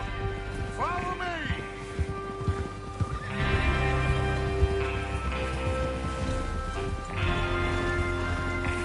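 Horses in Red Dead Redemption II whinny and neigh with close, clear calls while hooves clip-clop and thud steadily beneath, in a busy outdoor game scene as the gang readies to rob a train.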